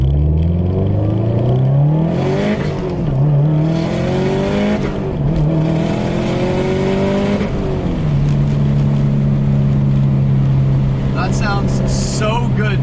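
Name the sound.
Subaru STI with external wastegate driving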